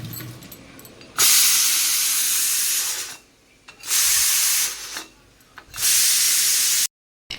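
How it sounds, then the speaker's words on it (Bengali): Steam hisses loudly from a pot of boiled peas as it is released, in three strong bursts of several seconds each, dropping back to near silence between them. "এটা ভাপটা না বের করে দিলে না পুরো সিদ্ধ হয়ে থাকবে।"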